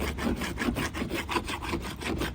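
A hand rasp files across a foam prototype with quick, rhythmic back-and-forth strokes, a steady gritty scraping rasp close by with no talking.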